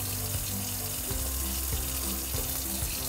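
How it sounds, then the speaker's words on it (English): Lukewarm water runs steadily from a sink tap, a constant close hiss and splash with faint clinks of handling underneath, no talking. "First, get the water running."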